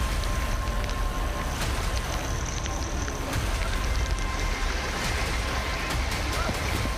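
Heavy rain and rushing floodwater in Junagadh, Gujarat, a dense, steady broadband roar of pouring water with scattered sharp splashes and clatters throughout, loud and continuous with no pauses.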